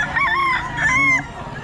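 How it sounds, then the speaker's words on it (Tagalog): Roosters crow at a gamecock market in Bocaue, two long drawn-out crows overlapping close by, over a busy murmur of background noise. "Maraming manok dito ngayon."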